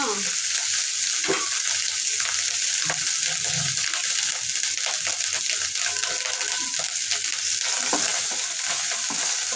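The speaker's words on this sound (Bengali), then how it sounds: "আমি পেঁয়াজটাও আপনারা ভেজে নিচ্ছি, কারণ পেঁয়াজটা বড় হয়ে যাওয়া সেই জন্য।" Onion paste sizzles and fries steadily in a hot pan, a dense continuous crackle that stays close, with occasional stirring scrapes mixed in.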